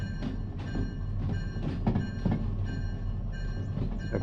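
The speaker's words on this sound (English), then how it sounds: "There's the flower cars coming through with food." Freight cars carrying food roll by in Derail Valley, with rhythmic wheel clatter and clicks over a continuous low rumble of the passing train.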